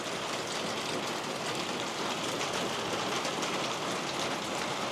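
Steady rain falling outdoors beside a residential pool under an aluminum cover, a dense continuous hiss of drops spread across the whole clip, moderately loud and even, with no talking.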